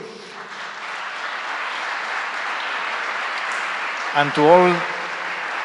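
Sustained audience applause fills a hall at a policy forum on North American partnership, steady and broad, while someone speaks briefly over it near the end.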